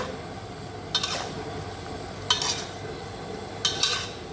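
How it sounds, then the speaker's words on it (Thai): Chicken and bell peppers are stir-fried in a pan, with three distinct bursts of spatula scraping and clatter against the metal over a soft continuous sizzle, close and fairly loud. "ผัดให้เข้ากันนะหอมมากเลยครับตอนนี้"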